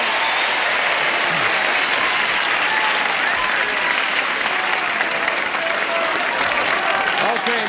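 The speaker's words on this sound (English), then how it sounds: "Why are they applauding for them?" A studio audience at a 1975 television game show applauds, with loud, dense clapping that continues without a break throughout.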